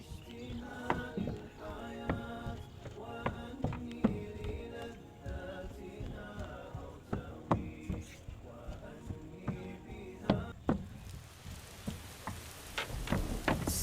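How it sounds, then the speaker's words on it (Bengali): Rain falls steadily near the floating bridge over Jhapa Baor in Monirampur, Jessore, a soft continuous patter with scattered sharper drops, heard beneath a person talking and some faint music. "বৃষ্টি নামতেছে, বৃষ্টি পড়তেছে, ওই যে দেখা যায় বৃষ্টি নামতেছে।"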